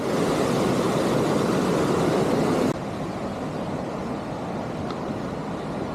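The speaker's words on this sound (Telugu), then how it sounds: "ఇక్కడ చూస్తే ఫుల్గా నది ప్రవాహం ఎక్కువ ఉంది" Dense, continuous rushing roar of a fast-flowing river at Nambi waterfalls, Chhattisgarh, loud and broadband, dropping abruptly partway through to a softer but still steady flowing rush.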